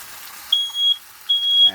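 Two high, piercing electronic beeps from a smoke alarm, each lasting under half a second with a short gap between, fairly loud in a quiet room.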